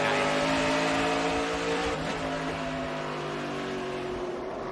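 SRX Series race cars roar around Five Flags Speedway on a Saturday night, a loud, sustained engine drone with layered harmonic whine that shifts slightly in pitch as the cars pass and keep racing.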